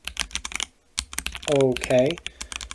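Rapid clattering keystrokes on an ROG Azoth mechanical keyboard come in quick close bursts, with a brief pause, while someone speaks briefly over the typing.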